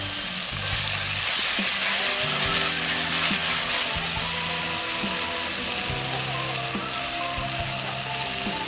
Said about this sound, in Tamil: தக்காளி நல்லா வதங்கிடுச்சு, இஞ்சி பூண்டு பேஸ்ட்